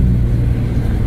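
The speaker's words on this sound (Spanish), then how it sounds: "Así es como está el tráfico," Loud, steady rumble of busy road traffic with many cars, engines droning close by in a continuous low roar with no talk.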